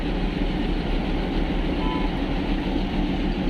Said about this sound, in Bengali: এটা আমাদের ট্রেনের ইঞ্জিন